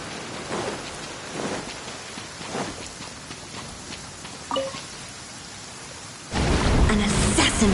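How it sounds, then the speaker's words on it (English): Steady rain hisses in the video game Genshin Impact, broken by several soft thunder rumbles and a brief tonal game cue before the downpour swells louder near the end. "It always rains when I go on an adventure."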